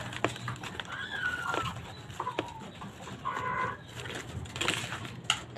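Caged chickens on a city rooftop cluck and chatter in short bursts, with a few louder calls rising over steady outdoor background noise, no one speaking.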